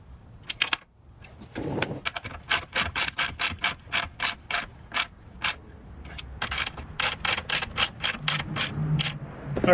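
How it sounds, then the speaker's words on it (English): A hand ratchet clicks in rapid, evenly spaced bursts while a bolt on a 2017 Tacoma RCI skid plate is checked for tightness, close and distinct against a quiet background. "I always use a ratchet just to check how tight it is"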